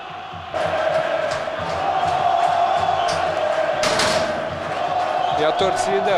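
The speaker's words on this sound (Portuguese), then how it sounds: "E a torcida aqui em Campinas, você ouve ao fundo." A Brazilian football crowd at a Série B match in Campinas, Ponte Preta against Vasco, roars and chants as a loud, sustained din, with bangs against glass and a broadcast commentator speaking over it.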